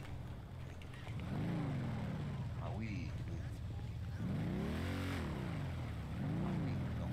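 Motorcycle engine idling and revving in repeated rising and falling swells, close and loud, with people talking over it.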